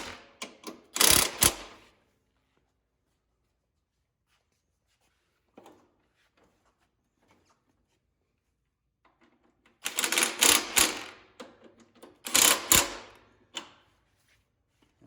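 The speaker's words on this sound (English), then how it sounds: "And then we tighten those bolts." A ratchet wrench tightens bolts on an original International Cub Cadet tractor, three separate bursts of close, loud mechanical clicking with quiet gaps between them.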